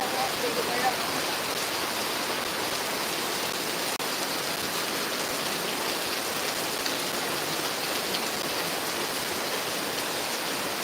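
Heavy rain pours steadily, a dense, constant hiss of drops drumming on surfaces with no letup.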